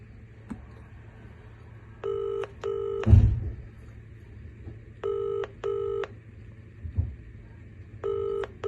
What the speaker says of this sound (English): Nick, I've tried to call you now multiple times and you are not answering my phone call